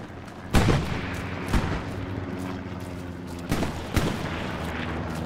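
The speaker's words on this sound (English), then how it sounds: "these airstrikes are kind of low-key scary" Airstrikes and gunfire in the video game Battlefield 5 rumble through a dense, continuous battle bed, with several heavy booming blasts spaced across the stretch, loud and close.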